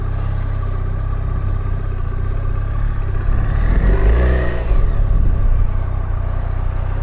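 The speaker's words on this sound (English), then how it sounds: "first ride home on my new BMW R1300 GS Adventure 2025" A 2025 BMW R1300 GS Adventure motorcycle being ridden, its engine a steady low rumble with wind noise, swelling briefly as it revs and shifts midway before settling back to a cruising drone.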